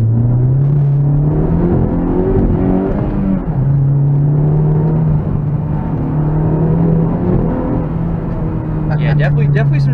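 A Honda Civic Type R front-wheel-drive car in sport mode gives a loud, steady engine drone from inside the cabin, rising and falling slightly in pitch, with a brief burst of other sound near the end.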